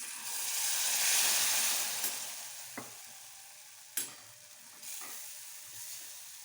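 Spice masala of turmeric, chili and garam masala frying in a pan for chunn gole bhaji, a steady soft sizzle with occasional spoon knocks and stirring scrapes, no voices.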